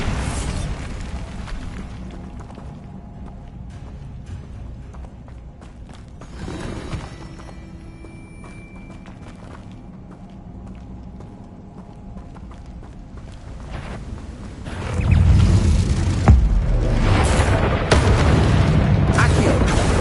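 Bombarda spell blasts in a Harry Potter video game: low booming explosions with rumbling thuds, sparse and quieter at first, then a heavy, loud burst of blasts from around fifteen seconds on.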